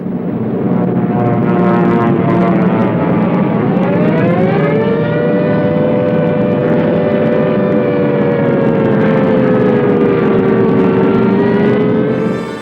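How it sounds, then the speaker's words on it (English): Italian bomber aircraft in an air raid on Malta: a loud, continuous engine drone with a wavering, rising and falling pitch, steady throughout with no voices. "Mussolini unleashes his bombers on Malta"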